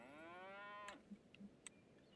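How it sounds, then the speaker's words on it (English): Cows mooing in a farming simulation game, one long drawn-out moo with a falling pitch followed by a few short distant lows, fairly quiet against a steady ambient background. "so in here we have our cows"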